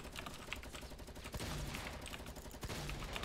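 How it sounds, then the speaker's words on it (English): Rapid bursts of gunfire crackle from a Fortnite match, dense and continuous over a busy bed of game sound, with no voices. "He's just running up and shooting on me."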